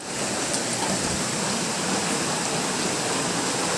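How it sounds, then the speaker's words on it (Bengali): Heavy rain pours down outside in a thick, constant roar of broadband hiss. It stays dense and unbroken throughout, with no voices over it. "বাইরে মুষলধারে বৃষ্টি পড়ছে"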